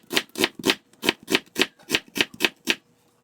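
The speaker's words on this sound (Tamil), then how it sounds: "பிரியாணிக்கு கொஞ்சம் வெங்காயம் வெட்டிக்கலாம்." Knife chopping onion on a board for paneer biryani, about eleven crisp, evenly spaced close-up cuts in a steady rhythm, each cut followed by a quiet gap.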